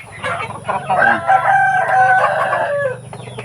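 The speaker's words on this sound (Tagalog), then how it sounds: "Pero istorbo itong mga ano, itong mga manok, no?" Roosters crow loudly and close by, long drawn-out calls overlapping one another, with a few clucks from other chickens underneath.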